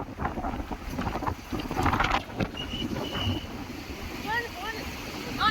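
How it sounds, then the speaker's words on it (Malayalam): Wind gusting across the Harangi dam bridge, a steady broadband rush and buffeting against the microphone that runs the whole time, with a few faint higher chirps near the end. "അടിപൊളി കാറ്റ്."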